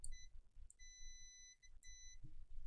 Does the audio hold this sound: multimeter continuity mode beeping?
yes